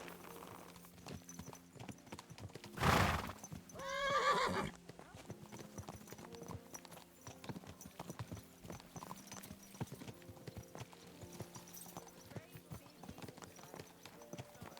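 Horse hooves clip-clop steadily during a ride in the video game Kingdom Come: Deliverance II, broken by a loud horse neigh and snort, with a voice speaking over the game sounds.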